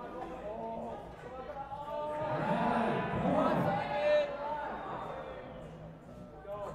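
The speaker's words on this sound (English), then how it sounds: "Crowd is behind Simon here, achieving that 15-point bonus." Spectators at a USA Climbing national cup bouldering event cheer in a swelling burst that peaks midway and fades, heard under an announcer's commentary.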